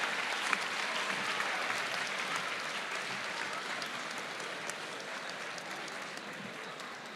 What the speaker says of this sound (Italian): Un applauso per Agata.